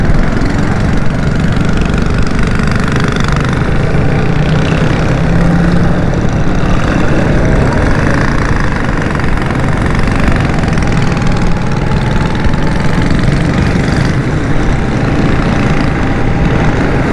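Vehicle engines idle in a jammed road, making a loud, dense and unbroken drone of rumbling motors with a faint tonal whine drifting through the traffic noise.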